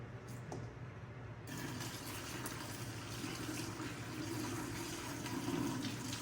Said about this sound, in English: I will drain out this water.